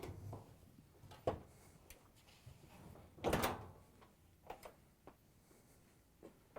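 The front panel of a Whirlpool washer comes loose, making sparse metallic clunks and knocks with a louder rattling thump in the middle, all close by in a quiet room.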